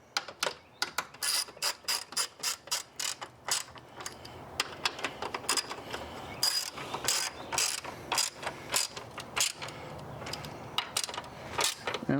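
A ratchet wrench tightens down a part on a Jeep Gladiator during an accessory install, delivering rapid, close, repeated metallic clicks in bursts separated by short pauses, with no speech.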